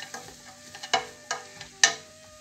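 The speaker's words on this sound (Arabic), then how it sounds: "ونرجع معاكم من بعد ما بدات كتشحر ليا البصيله كما شفتوا" Chopped onion fries in a pot for chicken briouats while a utensil clinks and scrapes against the metal in several sharp, separate strokes over a faint sizzle.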